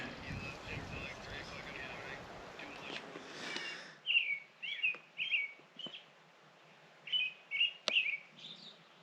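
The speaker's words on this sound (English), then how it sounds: "There's a bird up here in the tree just" Several short, sharp chirps from a bird in a tree ring out in quick bursts, fairly close, after a stretch of windy, rustling noise with some talk at the start, early morning on the Colorado Trail.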